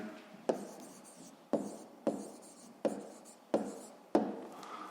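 Pen writing an answer on paper for a maths exercise, six sharp taps each trailing into a short scratchy stroke, evenly spaced and close, with no voice.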